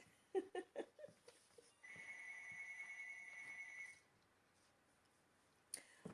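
A telephone rings before a meeting starts, one steady electronic ring lasting about two seconds after a few clicks, quiet and somewhat distant in a still room, with a short click near the end.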